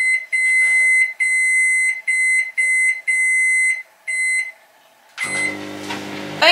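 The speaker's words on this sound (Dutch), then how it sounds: "Magnetron, even." Household microwave oven beeping as it is set: a run of short, loud electronic beeps at an even rhythm, a brief pause, then the low hum of the oven starting to run.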